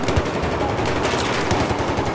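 Rapid automatic gunfire from a first-person shooter set in a metro tunnel, a fast loud rattle of shots that runs without a break, with no talk over it.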